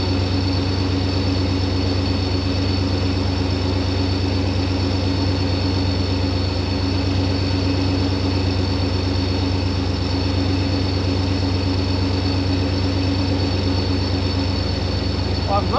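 A car engine idles steadily and loudly before a first-gear launch, a constant low drone with a fixed engine hum throughout.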